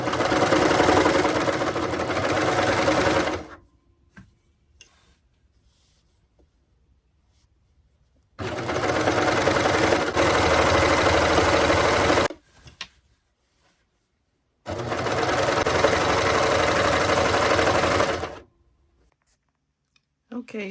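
A serger overlocker stitches sleeves onto a sweatshirt in three separate runs of about three to four seconds each, a dense close mechanical whir that starts and stops abruptly, with near silence between runs.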